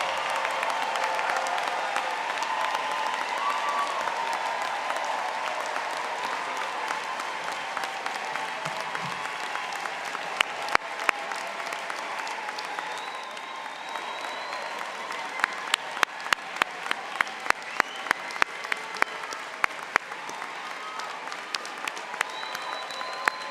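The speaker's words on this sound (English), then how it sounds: "Please join me for one more round of applause for the Yale Law School class of" The audience at the Yale Law School commencement applauds the graduating class of 2025: a long, sustained roar of clapping from a large crowd, with sharp nearby claps standing out over the distant wash.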